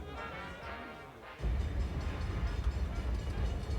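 A passenger train travels along the rails, a low steady rumble that swells suddenly partway through and continues as a dense rolling roar with faint rhythmic clatter, heard alone without talk.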